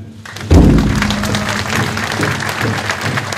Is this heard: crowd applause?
yes